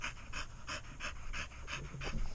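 A dog pants rapidly and steadily during a flight, a close rhythm of about three to four breaths per second, quiet over a constant low cabin rumble with no talking.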